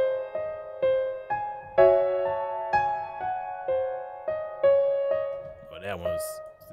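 A quantized piano melody in FL Studio plays steady, evenly timed single notes and chords, loud and close, ending with a brief burst of higher, noisier sound.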